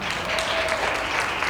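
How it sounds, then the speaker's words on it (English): An audience at a county supervisors candidate forum claps for the candidates, a brief, dense burst of applause that stays even and fairly loud throughout. "How about we give them one more applause for coming back?"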